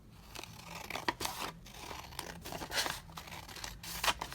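Scissors trimming paper for a faux envelope flip out, making close, quiet crisp snips and rustling crinkles in short irregular bursts, with no voices.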